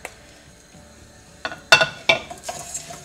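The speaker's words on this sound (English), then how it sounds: "So in goes the lovely cauliflower into the mix." Crispy cauliflower tumbles into a pan of frying onion mixture, a quiet sizzle broken by a few sharp scraping and clattering stirs near the end, close and unaccompanied by speech.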